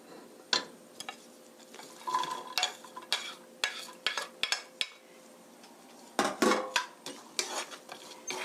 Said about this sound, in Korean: 양파가 노릇노릇하게 볶아질 때까지 볶아주세요.